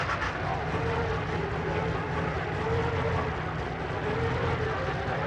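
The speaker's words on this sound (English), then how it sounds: "Now listen to that engine on that thing." The big engine of a classic Ford or Chevy truck rumbles steadily and loudly at an outdoor car cruise-in, a constant low drone with no break.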